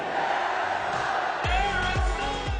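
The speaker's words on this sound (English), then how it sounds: "the snowboard fans in Innsbruck have had the reputation as the most enthusiastic contest crowd in the world" A snowboard contest crowd roars at Bergisel Stadium in Innsbruck during the Air & Style event. The sustained cheering and whooping sits under loud event music, with heavy bass beats thumping in the second half.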